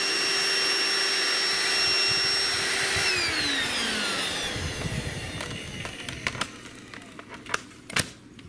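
A Bissell Bolt stick vacuum runs with a loud steady whine, then winds down as its pitch slides lower, leaving scattered clicks and knocks as the motor fades.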